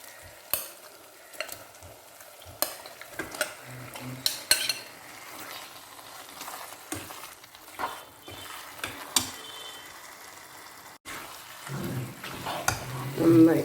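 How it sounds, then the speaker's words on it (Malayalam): Salt-marinated chicken fries with curry leaves in a pan for tomato chicken, with a bed of sizzling under frequent spoon scrapes and clinks against the pan as it is stirred. "നന്നായിട്ടൊന്ന് ഇളക്കി യോജിപ്പിക്കാം."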